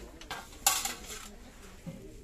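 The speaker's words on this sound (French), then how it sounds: "Il y a eu aussi le retour de ce plat en inox hein, ovale" An oval stainless steel dish, 40 by 26 cm, is handled in a shop, giving a few light metallic clinks and scrapes, one brighter ringing knock near the start, then softer taps.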